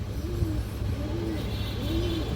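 Pigeons, red-eyed breeding stock, give three soft, evenly spaced coos over a constant low hum.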